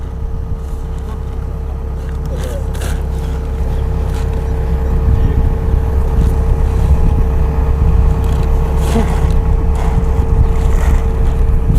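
A boat engine, apparently an Isuzu, drones steadily with a low hum, wind buffeting the microphone and faint water noise around it.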